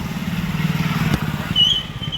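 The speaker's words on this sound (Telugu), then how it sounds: "స్కూటీ." A scooter engine running close by, a low steady motor drone with a slight rhythmic pulse, briefly overlaid by a faint higher whine near the end.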